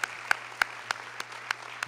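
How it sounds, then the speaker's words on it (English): An auditorium audience at a school awards event gives a round of applause, heard as a soft wash of clapping with a few sharper, regularly spaced claps standing out close by, over a low steady hum. "Round of applause for that"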